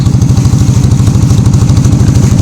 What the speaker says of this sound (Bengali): এই হচ্ছে আমাদের জেলেদের যে মাছ ধরা ট্রলার, সেই ট্রলারে করে আমাদের আজকের সফর।